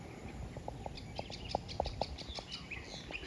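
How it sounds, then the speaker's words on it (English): Migrating birds call from a distance, a faint series of short, evenly spaced chirps over steady outdoor background noise. "there goes those birds. Now these are not locals. They must be migrating."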